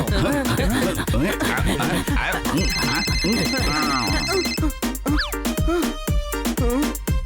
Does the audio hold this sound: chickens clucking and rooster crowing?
no